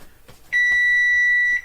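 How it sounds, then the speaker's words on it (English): Kitchen timer going off while baking bread, a single sustained electronic beep lasting about a second, loud and close, following a few soft kitchen knocks. "As you can see, the timer just went."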